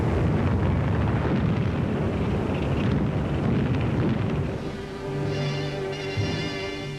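Heavy bombs bursting in a target area during a wartime air raid: a continuous loud rumbling roar of blasts that eases after a few seconds, leaving a lower sustained drone, with no voices.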